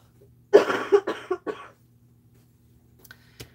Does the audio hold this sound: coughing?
yes